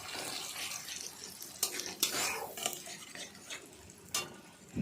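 Masala being stirred into fried tomatoes for a vegetarian potato curry (aloo dum), with a spoon scraping and clinking against the pan in a few sharp strokes over a soft, wet background hiss.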